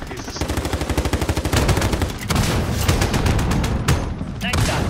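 Rapid automatic gunfire from close air support in Modern Warfare, a dense stream of loud shots that keeps hammering throughout, with a few heavier bursts near the end and voices talking over it.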